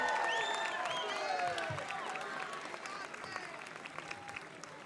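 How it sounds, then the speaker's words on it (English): Applause from an audience at an eighth-grade recognition night, a thin wash of clapping mixed with crowd chatter and whistle-like tones, fading gradually across the clip and fairly quiet overall. "can we all just give a really rousing round of applause"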